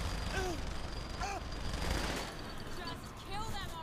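Gunfire in the video game Saints Row 3, a continuous rumbling barrage of shots and blasts with chirpy whistling tones, while a voice speaks over it.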